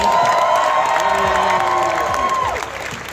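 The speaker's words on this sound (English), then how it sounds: "give it one more round of applause for all of our winners today" A crowd at a cosplay contest at a gaming convention in Milwaukee cheers and claps for the winners, loud and continuous, with whoops and a held tone riding over it before fading slightly near the end.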